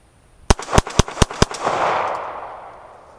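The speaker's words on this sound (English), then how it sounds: "I'm just going to do a rapid fire mag dump down there." A Star BM pistol firing steel-case ammunition in a rapid magazine dump: five sharp, loud shots about a quarter second apart, followed by a lingering outdoor echo that fades away.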